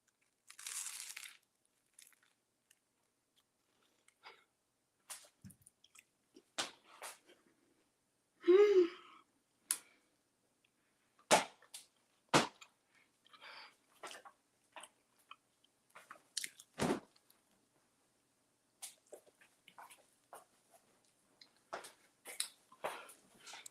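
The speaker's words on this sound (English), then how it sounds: "I don't know if y'all heard the crunch." Crunchy bites of a spaghetti sandwich, close and dry, coming as scattered short crackles and chewing bursts with pauses between, with faint breaths and no talk.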